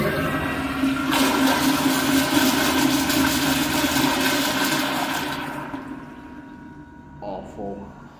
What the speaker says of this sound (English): If this doesn't seem to be the worst Kohler commercial toilet